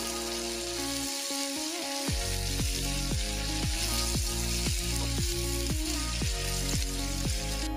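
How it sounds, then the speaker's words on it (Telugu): Fenugreek leaves frying over a medium flame for aloo methi fry, giving a steady broadband sizzle with a rhythmic series of soft knocks throughout and no voices. "మీడియం ఫ్లేమ్లో పెట్టుకుని అలా ఫ్రై చేసుకుంటూ ఉండాలి."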